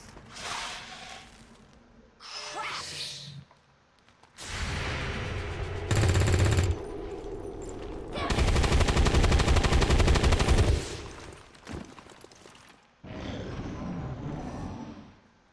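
Loud bursts of gunfire from the XCOM 2 video game come in separate volleys, some short and some sustained, broken by brief gaps, with faint game voices between them.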